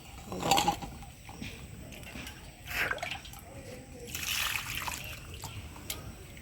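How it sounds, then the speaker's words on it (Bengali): Milky, starchy water is poured off flour dough being washed in a kitchen, coming as three short splashy pours separated by quieter pauses. "তো আবারও এটাকে জল ফেলে দেবো।"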